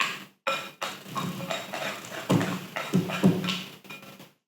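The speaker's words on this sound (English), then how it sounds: "using my scraper, which I'm also going to line with a bit of olive oil, and scrape down the sides, clean up the bowl" A dough scraper scrapes down the sides of a bowl of oiled focaccia dough, giving a series of soft, irregular scuffing and knocking strokes, close and fairly quiet, with no voices.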